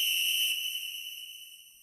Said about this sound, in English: I'll blow my whistle and see if anyone stirs.